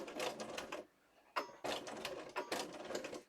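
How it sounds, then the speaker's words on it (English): A sewing machine stitching through paper whirs in fast, rattling bursts, stopping briefly and then starting again for several close, clear runs with no voices. "And I am doing a couple back stitches."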